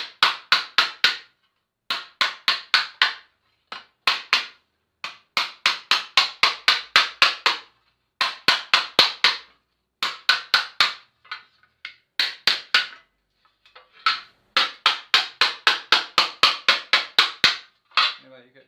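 Hammer blows on a Jaguar XK140 body panel held against a tree stump, fast bursts of sharp metallic taps in repeated runs of about eight to ten strikes, with short pauses between runs, close and loud.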